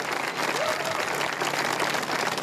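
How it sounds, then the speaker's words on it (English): A large crowd at a same-sex marriage equality rally claps and cheers steadily, a dense, continuous roar of applause and voices close by, filling the whole moment without pause. "a vocal crowd calling for equality."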